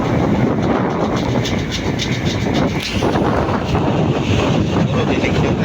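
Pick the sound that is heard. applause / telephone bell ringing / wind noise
wind noise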